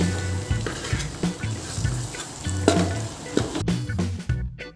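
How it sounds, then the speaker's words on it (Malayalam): Beef fry masala sizzles in a pan while it is stirred, a loud, close crackle with repeated scraping and knocking of the spoon. "അടി പിടിക്കാതെ ഇത്രയും ഇടയ്ക്ക് ഇളക്കി കൊടുത്തുകൊണ്ടിരിക്കണം"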